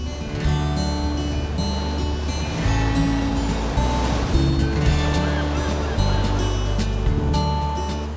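Atlantic waves break against the friable rock of a headland on the Brittany coast, a loud, steady wash of surf that swells and recedes with continuous roar and no voices.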